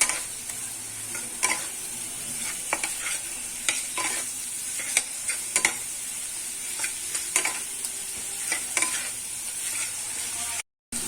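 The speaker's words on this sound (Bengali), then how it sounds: "কষাতে কষতে মশলাটাও ভাজা হয়ে গেছে, আর মাছের তেলটাও ভাজা ভাজা" Spice paste sautéing in fish oil in a pan hisses steadily while a spoon scrapes and taps through it at irregular intervals, close and alone, ending with a brief drop-out.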